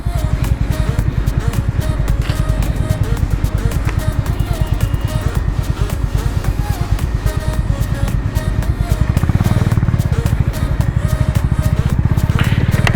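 A motorcycle rides along a coastal road in Goa, India, its engine thrumming in a steady, pulsing drone with wind buffeting throughout, rising slightly in intensity near the end.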